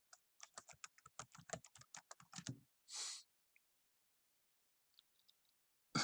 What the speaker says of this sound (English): we'll just type it on here